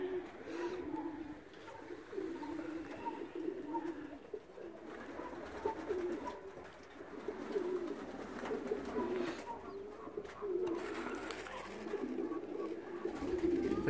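Racing pigeons coo in a loft, soft repeated low calls layered over faint background noise, fairly quiet and continuous, with occasional rustling.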